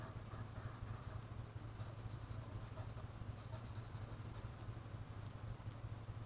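Pen drawing hand lettering and shading strokes on paper, a steady close scratching that continues throughout at low level, with a faint constant hum underneath and no talking.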